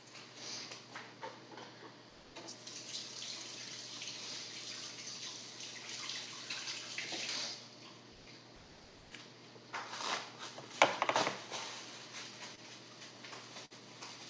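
Tap water runs in a home kitchen as hands are washed, faint splashing that comes and goes in bursts between quieter pauses, with a few clicks and knocks.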